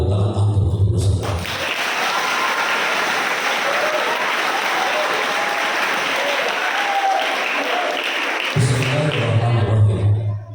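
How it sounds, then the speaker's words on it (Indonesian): Students at a motivational seminar in an Islamic school dormitory clap for the participants, a loud burst of crowd applause lasting about seven seconds, with a voice speaking just before and again just after. "berikan tepuk tangan antum untuk peserta"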